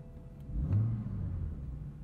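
A modified 2015 BMW M4 with a dual-clutch transmission driving on the street, its engine a steady low rumble that swells briefly as it pulls, heard from inside the car with no talking.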